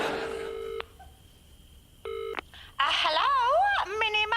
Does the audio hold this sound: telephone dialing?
yes